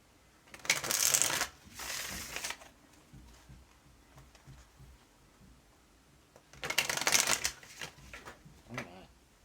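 Tarot cards are shuffled in two quick riffling bursts, close and crisp, with quiet rustling and handling in between.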